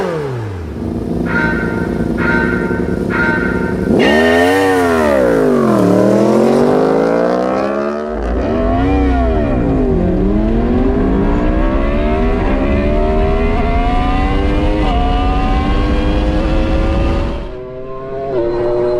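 A McLaren car and a Yamaha R1 motorcycle drag race, with loud, close engines revving hard and rising through repeated gear changes before the roar drops away near the end.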